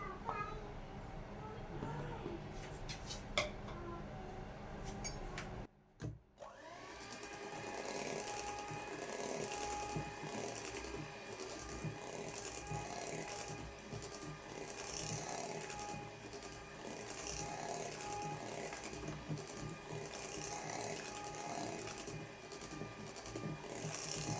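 An electric mixer on low speed blends cake batter for a chocolate black forest cake, a steady whirring motor hum that runs through most of the clip after a short pause and some clatter near the start.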